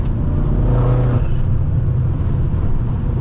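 Engine of a tuned 800 hp Stage 2 BMW M6 heard from inside on a two-lane road, a loud continuous roar with a rising whooshing surge that eases off, no talk over it.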